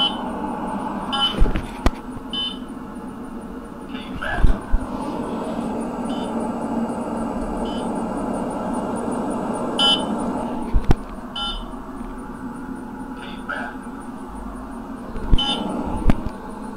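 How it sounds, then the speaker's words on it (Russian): Radar detector inside a car on the R21 highway from Moscow to Murmansk, giving short sharp electronic beeps in scattered bursts over the steady hum of road and engine noise, with no talk. "раздражает здорово пиканье этого радар-детектора"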